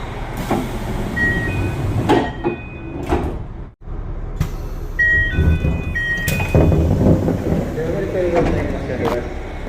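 Japanese passenger train arriving on a JR line near New Chitose Airport, with rumbling rail and carriage noise, door sounds, a sharp mechanical thud midway and short chime-like tones under platform announcements.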